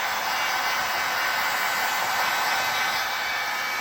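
A heat gun set on low, used to warm arcade artwork vinyl, blows a steady, even airy roar like a hair dryer, close and constant throughout with no talking.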